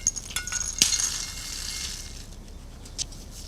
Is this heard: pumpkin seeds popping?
yes